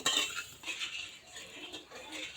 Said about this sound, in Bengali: এটা নাড়াচাড়া করে একটা শিরা তৈরি করা লাগবে চটচটে